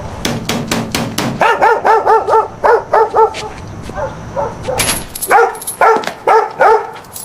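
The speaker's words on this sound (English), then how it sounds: "From the sound of that bark, that ain't no little dog." A big dog barking loudly and close, in a rapid run of deep woofs and then shorter clusters of barks, with a few high yips near the end.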